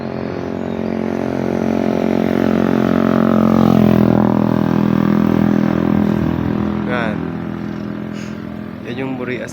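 A stock Honda Wave 125 underbone motorcycle rides past in the Philippines, its small engine rising to a loud, close drone and then fading, with a few faint voices toward the end.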